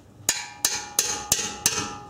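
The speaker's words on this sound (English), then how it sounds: "to use a 3-pound hammer" Five sharp metallic strikes of a 3-pound hammer ring out in a steady rhythm during a brake pad installation, each blow close and clear with a brief ringing decay.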